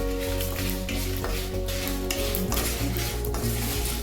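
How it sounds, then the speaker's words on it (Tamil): Dried red chillies and curry leaves fry in a pan, giving a steady close sizzle with bursts of stirring and the scrape of a utensil against the pan, and no talking. "ஒன்று ஒரு ஏழு எட்டு மிளகாய் போட்டிருக்கிறேன்"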